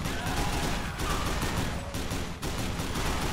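Sustained machine gun fire roars in the Dead Island video game, a dense, loud, unbroken stream of rapid shots with only brief dips in intensity.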